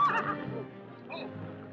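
A horse neighs loudly up close, a shrill whinny that trails off into snorting breaths, with no one talking.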